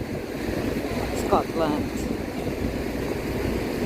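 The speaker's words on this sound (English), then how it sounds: "I hear the water." Lake water on Loch Ness in Scotland washes and rushes steadily past a boat, mixed with wind buffeting, while a person speaks briefly over it.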